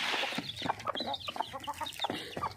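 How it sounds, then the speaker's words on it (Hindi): A chicken clucks repeatedly in short, choppy bursts, fairly near, with a quiet outdoor background. "अपना जो हमारा मुर्गा था ना वो भी एक्टिव होता जा रहा है"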